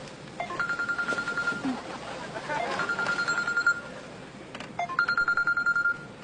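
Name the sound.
mobile phone ringing with an incoming call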